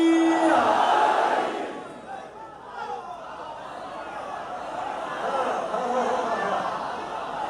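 A crowd at a religious majlis gathering in Ancholi, Karachi, shouts the slogan Naara-e-Haideri, with a loud massed burst of voices at first that settles into a sustained, rumbling murmur of many people.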